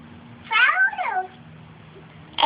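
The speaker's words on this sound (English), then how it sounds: "Is that the baby cat?" A cat gives one clear, drawn-out meow close by in a quiet room, followed by near silence and the start of a voice at the very end.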